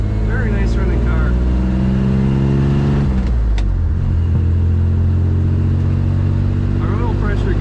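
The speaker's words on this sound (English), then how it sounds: "Very nice running car." A 1950 Chevrolet Deluxe Convertible with a three-on-the-tree manual transmission idles steadily up close, a loud continuous low rumble with a slight pitch dip partway through.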